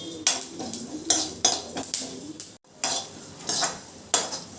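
Spoon or spatula stirring coriander seeds and dry chillies as they roast in a little oil in a metal pan for idli podi, a close scraping and rattling repeated every half second or so, with a short pause partway through.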